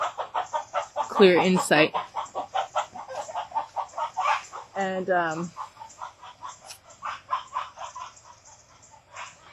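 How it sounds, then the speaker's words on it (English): Chickens, including a young immature one chasing another, clucking in a steady rhythmic series close by, while a person speaks briefly over them. "the young immature chicken is chasing Chai"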